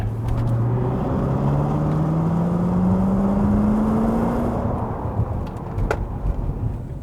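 A supercharged 5.0L V8 in a 2020 Range Rover Autobiography long-wheelbase P525 accelerates hard, its loud, close engine drone climbing steadily in pitch before easing off near the end.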